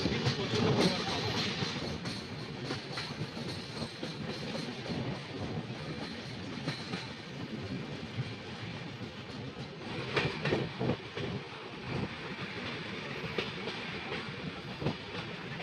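Inside the general compartment of the 12510 Guwahati–Bengaluru Express, the moving train gives off a continuous rumble and rhythmic clatter of wheels. The noise swells in places, with faint voices in the background.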